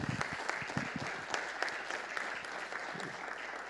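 Audience applause closing a talk at an open-data conference on environmental management, a dense, even wash of many hands clapping that holds steady throughout with no voices.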